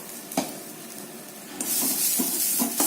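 Grated coconut sautés in a pan for vegetable kurma, a spoon stirring and scraping with short knocks before a brighter sizzle rises, close and steady.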